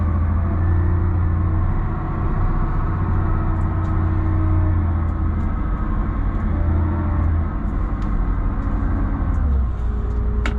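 A brand-new MY22 John Deere Hagie sprayer reverses on a farm, its engine giving a steady, loud, low rumble that holds constant throughout with no voices.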